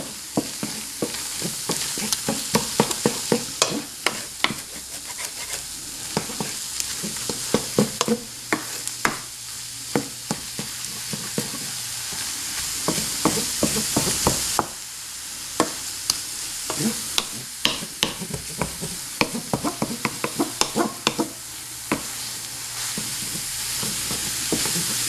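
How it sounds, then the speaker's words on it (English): Scrambled ham and eggs are scraped and stirred around a pan with repeated scratchy utensil strokes over a steady soft sizzle, close and alone. "Keep on scraping that bottom. Don't want the egg to burn to the pan."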